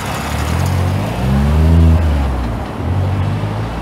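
Expresso União bus engine pulling away from a station, a steady mid-pitched drone that swells and eases twice, fairly loud and close with no voices.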